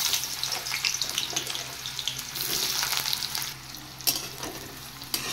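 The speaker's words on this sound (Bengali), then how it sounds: "এবার তেলটা গরম হলে আমি এবার দিয়ে দেব কুচিয়ে রাখা পেঁয়াজ" Chopped onions dropped into hot oil in a wok, a loud, dense, continuous sizzle and crackle with a few sharp clinks of utensils near the end.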